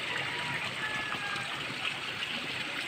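Gentle continuous water flowing up from underground among stones, with soft bubbling and trickling, close by and steady, no clear talking.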